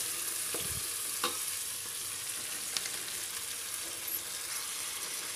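Onions and tomato frying in a pan, a steady close sizzle throughout with a few brief stirring knocks and scrapes, no voice.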